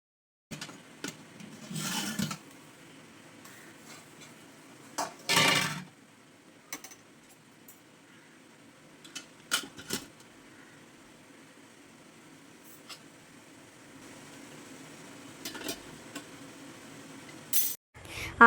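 Idli steamer plates and pots handled in a home kitchen between batches, giving scattered metallic clinks and clatters with a louder rattle near the middle, sparse and close over a quiet background.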